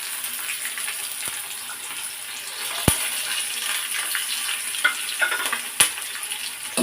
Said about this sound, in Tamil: எண்ணெயில் நல்லா வதக்கலாம் அந்த வெங்காயம்